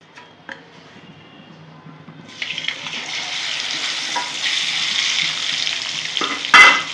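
Topse fish frying in hot oil, a quiet start that swells into a loud, steady sizzle with a sharp clatter near the end, close by and without speech.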